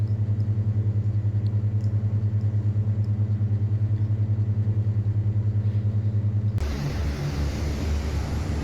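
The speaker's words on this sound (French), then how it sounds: "J'ai bien démarré les moteurs, donc il peut partir." ATR turboprop engines in the X-Plane flight simulator drone at a steady low pitch with a pulsing throb, then shift abruptly near the end into a louder, broader roar.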